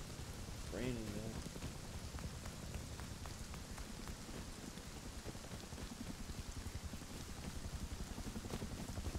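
Steady rain patters and hisses continuously at a low level in the video game Rust, with a faint voice briefly heard near the start.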